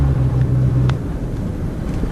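A 1990 Mercedes 300D diesel engine runs shortly after a cold start, a steady loud low rumble with a droning hum that drops away about a second in, leaving a rougher, continuous idle.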